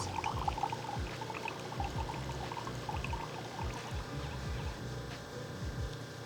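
A Jura ENA 8 espresso machine flushes water through its spouts during first setup, a steady continuous pour and trickle running unbroken and fairly close throughout, with faint low thumps of the pump underneath.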